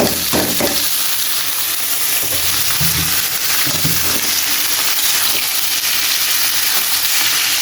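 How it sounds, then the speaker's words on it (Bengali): Greens dropped into a pan of fried onions hiss and crackle in a loud, steady sizzle that carries through the whole stretch, with a few stirring scrapes and no voices. "পেঁয়াজটা ভাজা হয়ে গেছে এটা শাক দিয়ে দিলাম"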